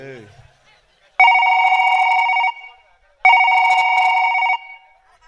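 A telephone bell rings twice in loud, even bursts of about a second each, separated by a short pause, right after a brief voice.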